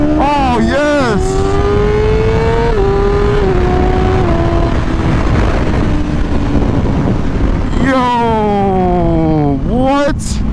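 Yamaha R6 sport motorcycle engine, fitted with an auto blipper, revving hard through rising and falling sweeps with sharp blipped shifts, loud and close throughout.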